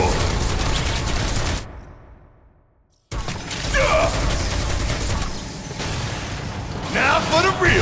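Rapid bursts of gunfire and metallic clatter from Final Fantasy VII Remake fill the clip, dropping to near silence for about a second and a half before the shooting and mechanical din return, with a voice talking over parts of it.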